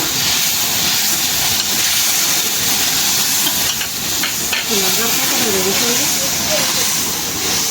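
Ginger, garlic and cumin paste sizzling in a hot pan in a home kitchen, a constant loud hiss running throughout, with a voice talking faintly in the background partway through.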